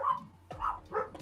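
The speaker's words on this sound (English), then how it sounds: "The dogs don't like that one." Dogs bark nearby in a short burst of three loud, quick barks with no talking.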